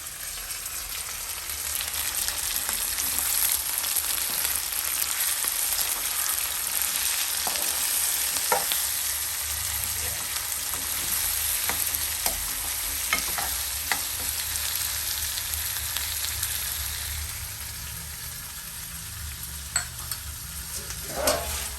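Small brinjals in a spiced curry with jaggery fry in oil for badnekayi henegai, giving a continuous close sizzle while a spoon stirs and scrapes the pan in irregular knocks.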